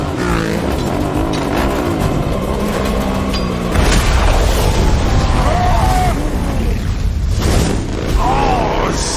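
A grenade goes off during a frenzied movie car chase, a heavy boom landing mid-scene amid roaring engines, screeching motion and music, with panicked shouting voices over the din.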